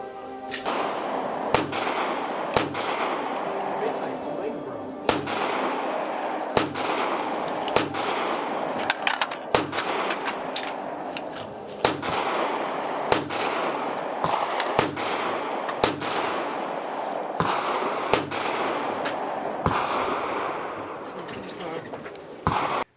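An SA58 rifle fires 150-grain hand-loaded rounds from 19-round magazines, its loud sharp shots coming in irregular bursts and single cracks across the whole stretch, with a constant background rumble between reports.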